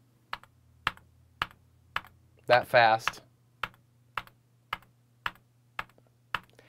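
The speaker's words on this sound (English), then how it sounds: "I can tap with the T key on my keyboard" Regular single key taps on a computer keyboard's T key, about a dozen sharp clicks in an even rhythm, close and clear, briefly interrupted by someone speaking in the middle.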